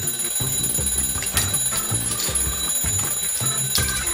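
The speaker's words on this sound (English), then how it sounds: "A fucking alarm clock?" An alarm clock rings loudly and continuously in a rapid, repeating pulse, with no talking.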